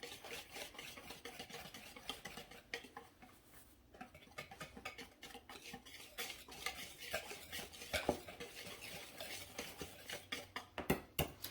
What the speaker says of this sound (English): I'm just going to kind of whisk that together here a little bit